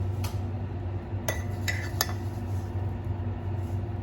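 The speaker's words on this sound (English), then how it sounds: "So then I just spoon off the very top." A spoon skims foam off the top of a dairy-free egg coffee, giving a few faint, sharp clinks against the cup spread over a few seconds above a low steady background hum.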